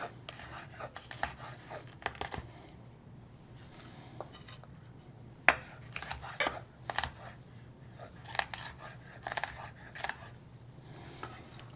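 Knife trimming the tops and bottoms off vegetables on a cutting board during kitchen prep for chicken fried quinoa. Scattered sharp taps and clicks land at irregular intervals over a low steady hum, fairly quiet and close, with no talking.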